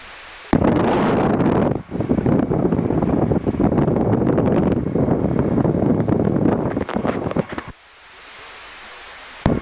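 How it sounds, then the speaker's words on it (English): Strong wind buffeting the microphone during a Piper Cherokee 180 landing at Claxton Evans County Airport, loud roaring gusts in long bursts with brief drops to near quiet between them. "It was very windy, that landing."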